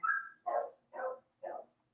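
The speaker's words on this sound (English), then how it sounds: "So if you hear the dog" A hound dog gives four short barks in an even rhythm, about half a second apart, fairly faint and slightly distant, with no talk over them.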